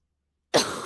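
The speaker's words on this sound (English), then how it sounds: "They're all coughing like crazy." A single harsh cough bursts out after half a second of silence, close and loud, from someone sick in a household where everyone has a cold.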